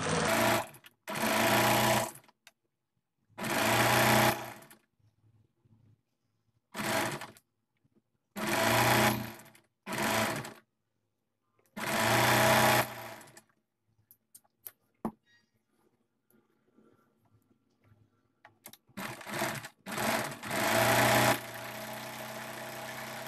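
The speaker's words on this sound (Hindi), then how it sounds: "तो चलिए इसमें भी सिलाई लगा लेते हैं।" A sewing machine stitches gota patti lace onto the sleeves of a kurti in repeated loud whirring runs, each lasting a second or two, separated by silent pauses, with shorter bursts near the end.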